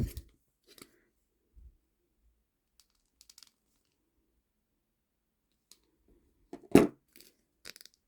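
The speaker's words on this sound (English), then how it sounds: "Help me, scissors." Scissors snipping into soft rubbery plastic of a Godzilla toy figure, a few quiet scattered clicks and snips in near-silence, followed by one louder, sharper cut near the end.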